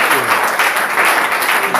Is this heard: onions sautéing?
no